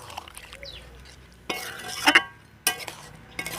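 Chicken curry stirred after fried potatoes go in, with a few sharp scrapes and clinks of a spatula against the pot in short bursts over a quiet background.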